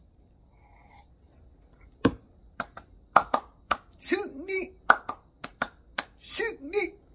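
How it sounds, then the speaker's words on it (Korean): A small church congregation gives a handful of scattered, sharp claps spaced irregularly over a few seconds, mixed in with a speaking voice rather than forming a continuous round. "오늘도 승리케 하신 우리 하나님께 영광의 박수"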